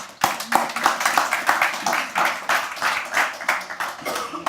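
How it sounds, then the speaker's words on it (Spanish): Church audience clapping for the actors after a dramatic presentation, a run of individual sharp hand claps at an uneven rhythm, fairly close and moderately loud. "Un aplauso aquí a los actores"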